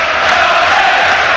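A football crowd of around 26,000 at Charlton's the Valley stadium roars in a steady, loud wash of massed voices with no break.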